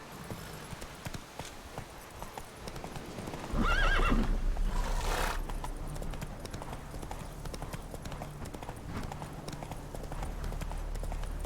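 Roach the horse in The Witcher 3 video game, a loud whinny bursting out partway through, followed by steady clip-clopping hooves, with a quieter mix of game sounds before it.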